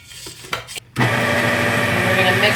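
An electric mixer whirs steadily through browned butter chocolate chip cookie batter, starting after a second of light scraping and rustling and then running loud and continuous close by.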